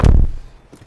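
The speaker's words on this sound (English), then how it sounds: "we've got the car started up" A 2019 Toyota Camry XSE engine fires up with a single loud, low burst at the start that quickly fades to a quiet murmur.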